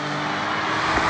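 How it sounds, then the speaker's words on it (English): A BMW M4 engine hums steadily from inside the car while driving, a constant loud drone with slight rising pitch at the end, no talking. "This engine is very nice."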